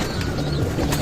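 Young pigeons coo softly at close range, a few low rolling coos over a brief moment with no talking.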